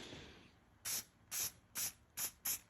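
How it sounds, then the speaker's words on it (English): Rust sealer coating sprayed from an aerosol can onto car bumper brackets for a Dodge SRT4 bumper sag fix, five short bursts of hiss in a steady rhythm, close and clear, with no talk. "I'm just going to coat all this stuff with it pretty generously"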